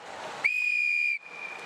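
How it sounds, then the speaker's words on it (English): A referee-style whistle is blown once at ice hockey practice, a loud, steady shrill tone lasting under a second over rink noise. "Now, when I see it loose, I blow the whistle, right?"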